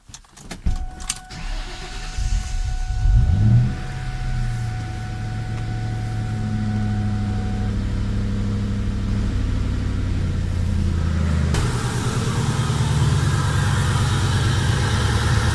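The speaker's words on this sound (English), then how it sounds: "go ahead and start the vehicle for a few minutes" A few clicks sound before a car engine cranks and catches during a fuel filter change with the fuel pressure being relieved, then settles into a steady, close idle that thickens slightly near the end.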